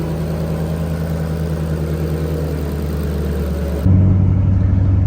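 Sports car engine idling with a steady low rumble and a fairly loud, even drone, shifting to a deeper, louder idle tone near the end.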